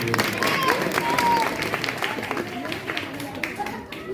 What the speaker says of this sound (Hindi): सबसे ज्यादा ताली हमारी बहनों के लिए और हमारी बच्चियों के लिए